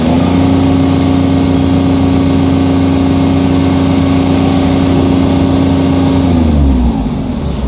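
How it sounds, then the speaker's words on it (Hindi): An Ashok Leyland Dost pickup engine is held at a loud, steady raised rev, humming evenly for several seconds before the throttle eases off and the note drops near the end, with no voices. "अभी वापस एक्सीलेटर देके रेस करेंगे"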